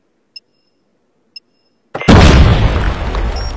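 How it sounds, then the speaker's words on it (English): A single loud grenade blast in the mobile video game Call of Duty Mobile, breaking abruptly after near silence and two faint clicks, then rolling on as a broad, sustained roar. "Grenade out!"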